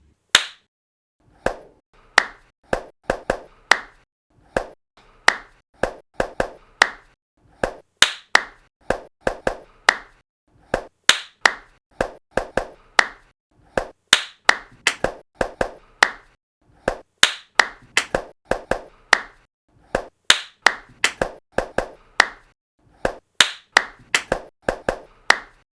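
Sharp, close hand claps repeat in short rhythmic bursts with brief pauses between groups, continuing steadily and nearly alone with almost no talk.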